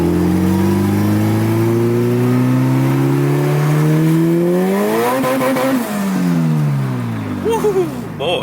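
A turbocharged B20 VTEC engine in a Honda Del Sol revs hard while driving, its loud droning pitch climbing steadily, dipping briefly, then rising again, with brief voices near the end.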